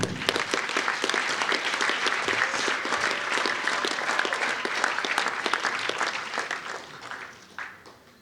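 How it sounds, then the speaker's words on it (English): An audience at the Nevada Boxing Hall of Fame awards ceremony gives sustained, dense applause, loud and close. The clapping fades toward the end. "we need to give you guys a round of applause."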